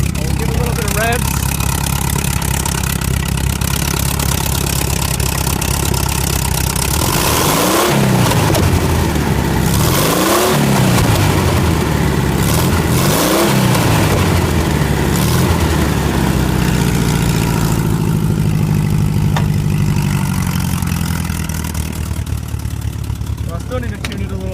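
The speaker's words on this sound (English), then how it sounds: "I'll give a little bit of revs." Close, loud 1974 VW Beetle engine, running slightly rough, idles and then gets three quick rising revs, followed by a longer climb before settling back to a steady idle.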